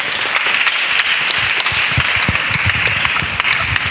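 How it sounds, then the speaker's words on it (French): Steady, dense applause fills a church gathering of a pastor and his child disciples, many hands clapping at a fairly even level throughout with no distinct voices on top. "Acclamons très fort"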